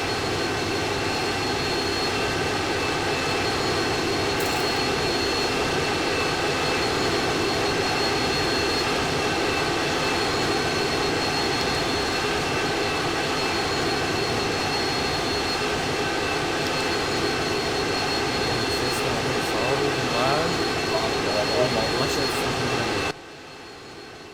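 A steady, loud aircraft engine drone in a Roblox game holds throughout, a continuous roar with a sudden drop in level at the very end as the plane crashes.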